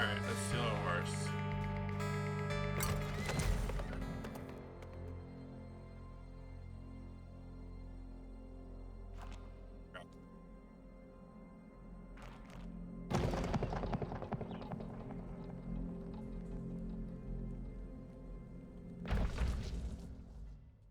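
In a video game, hoofbeats clip-clop at a steady pace over a low ambient drone, with sharp bursts of horse neighing and thumps breaking in at intervals.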